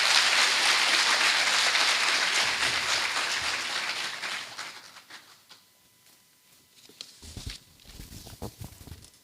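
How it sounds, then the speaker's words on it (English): An audience at a university matriculation ceremony applauds the Vice Chancellor, a loud dense wash of clapping that gradually fades away over several seconds, followed by quieter shuffling and brief low thumps. "Let's give her an applause."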